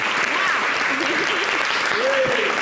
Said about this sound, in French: Merci d'applaudir Yilim.